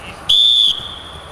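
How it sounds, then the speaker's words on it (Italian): A referee's whistle blown at a football match: one sharp, loud shrill blast lasting under half a second, standing out clearly above quiet background murmur. "Fischio, fischio."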